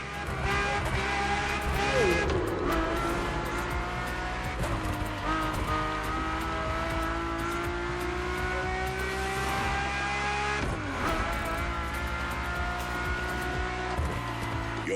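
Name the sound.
Ferrari supercar engine in the video game The Crew Motorfest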